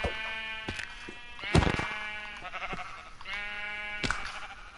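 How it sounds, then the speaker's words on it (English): Baby sheep in the video game Minecraft bleat in several short, wavering calls with sharp game clicks and thuds between them, fairly close. "RIP to both of you little tiny baby sheeps."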